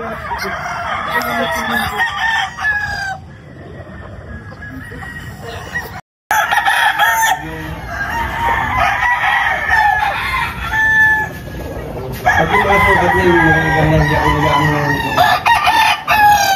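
Sweater-breed gamefowl roosters at a game farm crow loudly and repeatedly, overlapping calls from several birds close by with clucking between, plus a brief silent gap partway through.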